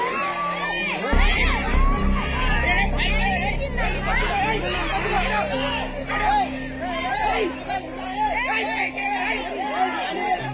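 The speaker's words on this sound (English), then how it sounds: "The crowd screams in fear and terror" A crowd at a lion enclosure yells and screams in alarm, with many overlapping agitated voices and shrill cries that stay loud and close, over a low rumbling hum.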